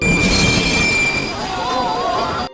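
A train at a station lets out a long metallic squeal of wheels on rails that rises and wavers over a loud rolling rumble, then cuts off abruptly at the end.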